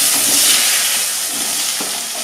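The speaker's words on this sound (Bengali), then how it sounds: "এবার 5 ফোড়ন তেজপাতা ফোড়ন দেব। ফোড়ন দিয়ে বাকি সবজিগুলো একে একে দিয়ে দেব।" Five-spice and bay leaves temper in hot oil before mixed vegetables go in for Bengali shukto, producing a loud, continuous close-up hiss and sizzle with no talking.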